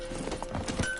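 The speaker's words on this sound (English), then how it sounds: "Run, Roach" Horse hooves galloping in the video game The Witcher 3, a brief, quick clip-clop run at moderate volume against a steady background.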